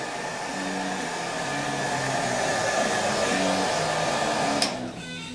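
Heat gun shrinking the film covering on an RC plane, a close, steady airflow whoosh with a motor whine, a faint melody playing underneath, ending in a brief click as it shuts off.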